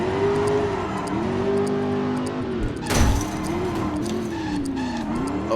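Car engine in the driving game Driver: San Francisco revs steadily with rising and falling pitch through handbrake turns and slaloms, a brief louder burst midway, loud and continuous with no talk.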